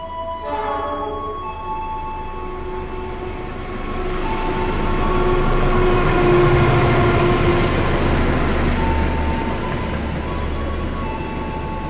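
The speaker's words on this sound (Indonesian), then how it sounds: "Itu dia kereta api Argo Dwi Pangga." The Argo Dwipangga passenger train rumbles steadily past nearby in Indonesia, its roar swelling in the middle with a rhythmic clatter of wheels on the rails.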